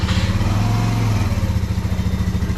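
A motorcycle engine idles steadily in neutral, a loud, close, even low rumble with a faint pulsing throb that holds unchanged from start to finish.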